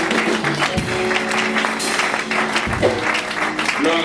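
A church congregation at a worship service applauds and cheers for Jesus, a loud, sustained wash of clapping and voices with music or singing tones running beneath it.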